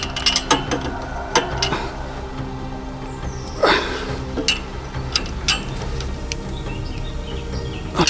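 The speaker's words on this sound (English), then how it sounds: "I'm going to be torquing those down now" Ratchet torquing down the exhaust bolts on a Honda RF900 motorcycle full exhaust system, giving repeated close clicking bursts in uneven spurts with short pauses between strokes.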